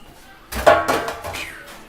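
A cooking pan set back down in a kitchen gives a clattering metallic knock, with a few lighter clanks and rattles following over about a second. Brief and fairly close.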